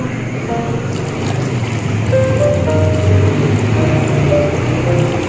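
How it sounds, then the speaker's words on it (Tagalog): Water poured into a cooking pot of meat while making monggo (mung bean stew), a steady splashing hiss that swells partway through and continues to the end, close and fairly loud. "lalagyan natin siya ng tubig."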